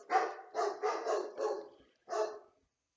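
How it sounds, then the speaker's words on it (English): A dog barks five times in quick succession, loud and close, with a short pause before the last bark. "And Ice is just laying there barking now"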